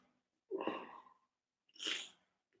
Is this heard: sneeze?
yes